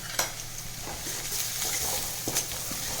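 Chopped garlic sautés in a hot pan, a steady close sizzle broken by a few sharp scrapes and clinks of a spoon stirring against the metal, with no voices.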